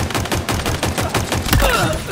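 Rapid gunfire in the video game Halo Infinite during an Oddball match, loud rhythmic bursts of shots in close succession, ending in a heavier impact.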